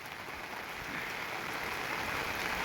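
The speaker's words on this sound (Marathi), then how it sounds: "किती जोरात पाऊस चालू आहे" Heavy rain pours onto an open village field, a dense steady hiss that swells slightly louder as it goes on, with no talk.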